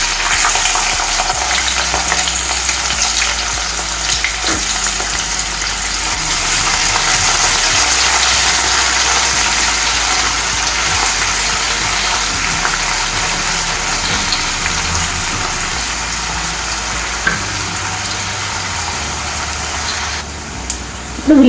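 Chopped onion pieces fry in a pan for a dhaba-style cabbage matar masala, giving a steady, close, continuous sizzle that holds evenly throughout, with no voices.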